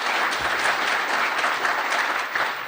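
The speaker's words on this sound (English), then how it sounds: "So give yourself a round of applause." Continuous, even applause from an audience at a DEF CON 24 conference talk, close and full, with no pauses.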